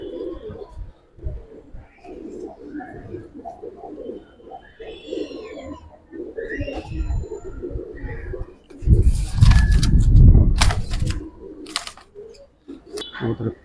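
Giribaz pigeons in a large collection coo in repeated low, rolling phrases close by, several birds overlapping, while a burst of flapping wings and scuffling rises loudly partway through.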